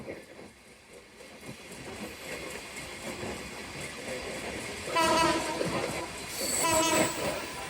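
A train rolls through Gandaria railway station in Dhaka on dual-gauge track with a building rumble and clatter, then its horn sounds twice in long blasts near the end.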